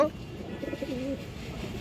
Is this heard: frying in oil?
no